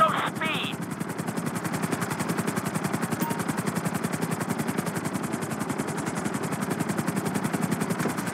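A helicopter in the video game GTA V flies during a flight-training course, its rotor chopping in a fast, steady, even pulse throughout, with a short burst of another sound at the very start.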